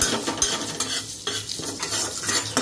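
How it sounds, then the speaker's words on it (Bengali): Fennel, cumin, mustard seeds and five-spice sizzle in hot oil while a utensil stirs and scrapes the pan, a close, continuous crackle with busy scraping. "এবার আমি মৌরি, জিরে, তোমার সর্ষে আর 5 ফোড়ন দিয়ে দিলাম।"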